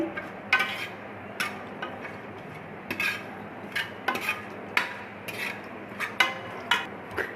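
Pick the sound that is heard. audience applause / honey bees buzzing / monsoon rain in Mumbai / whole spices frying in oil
whole spices frying in oil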